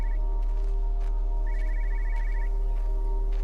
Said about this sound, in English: Oh, I can hear one of them phones again.